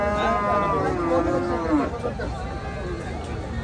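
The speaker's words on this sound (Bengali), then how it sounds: "আমরা দেখি এদিকে বিশাল দেহের 2টি হলস্টিয়ান ফ্রিজিয়ান ষাঁড় দেখা যাচ্ছে।" Two large Holstein Friesian bulls at the Chandimura cattle market in Comilla, a drawn-out low moo rising over crowd chatter and someone talking nearby.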